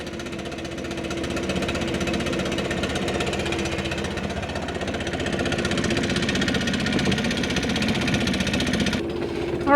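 A Stihl BR550 4-Mix backpack blower engine idling steadily after a valve adjustment, a close, even, rapid chugging drone that holds constant without voices.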